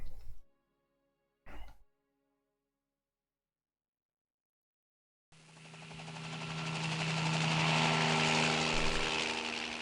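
A helicopter launches in the naval strategy game Harpoon Classic '97: two brief clicks, a few seconds of silence, then a loud rotor and engine roar that swells steadily and holds.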